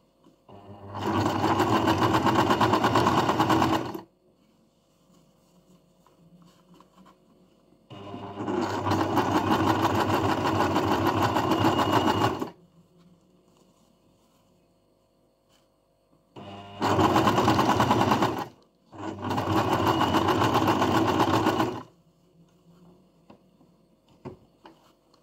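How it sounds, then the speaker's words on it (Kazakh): A Janome sewing machine stitches fabric close to a zipper in four loud, rapid whirring bursts of several seconds each, separated by quiet pauses, with no talking. "Матамен сыдырманы жақындатып қойып алып, тігуге кірісеміз."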